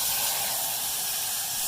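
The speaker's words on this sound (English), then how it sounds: "it's going to steam a little." Hot water being poured into a pot while cooking chiles rellenos, giving a steady, close, broadband steaming hiss that runs unbroken and fairly loud throughout.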